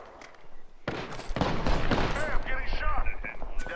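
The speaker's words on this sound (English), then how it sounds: "Somebody getting shot." Gunfire in the video game Apex Legends: rapid bursts of shots and impacts crowd together through most of the moment, loud and close, with other game sounds layered in.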